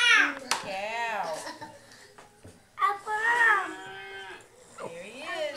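A cow moos with long, rising and falling calls, loud and close, while children and an adult talk over and between the calls.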